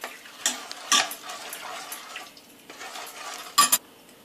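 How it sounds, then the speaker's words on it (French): A utensil stirs chickpea flour batter for a cake in a bowl, giving soft wet swishing broken by a few sharp clinks against the bowl's side, close and quiet. "On mélange."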